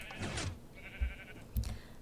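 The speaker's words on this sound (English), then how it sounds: "Now we're going to shear our sheep like normal." Sheep bleat in short, separate calls inside the game Minecraft, close and clear against a quiet background, with a few soft thuds between the cries.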